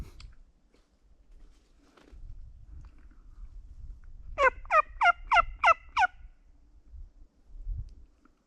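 A wild turkey hen in hardwood forest gives a quick run of six rhythmic yelps, clear but somewhat distant, over a quiet, low outdoor rumble.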